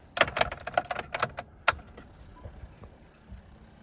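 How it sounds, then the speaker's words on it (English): A bunch of keys for a 2007 Chevrolet Silverado jangles in a quick burst of bright metallic clinks for about a second and a half, then fades into quiet rustling. "grab these keys"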